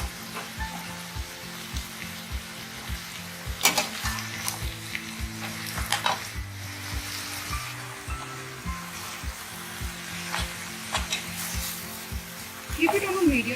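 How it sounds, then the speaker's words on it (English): Eggplant and potato curry, seasoned with red chili powder and coriander powder, sizzles steadily in a pan. A spoon stirs and scrapes it in regular knocks, with a few louder clatters near the end. "Mix everything well."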